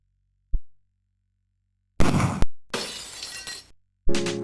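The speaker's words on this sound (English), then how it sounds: "it starts out with shooting some bottles off of a fence" Glass bottles shatter in a light gun video game: a sharp gunshot crack comes first, then several close, loud bursts of breaking glass in quick succession.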